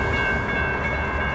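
A CSX autorack freight train passes close by at Homestead, Pennsylvania, with a loud, steady rumble of rolling cars and a sustained metallic ringing tone.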